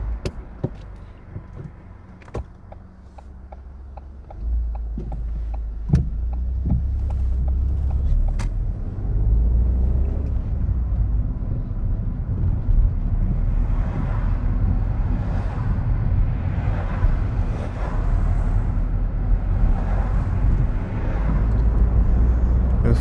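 A learner driver's car on a London road starts with a few faint clicks over a low engine idle. The engine then swells into a steady, rumbling drive as the car pulls away, heard from inside the cabin.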